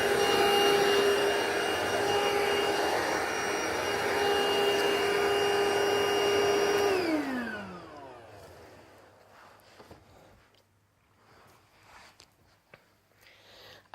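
A Vax cordless vacuum cleaner with a rotating brush runs loudly up close with a steady whine, then spins down and stops, leaving faint handling noises in a quiet room.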